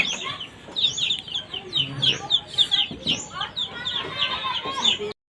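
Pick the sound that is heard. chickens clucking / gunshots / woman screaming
chickens clucking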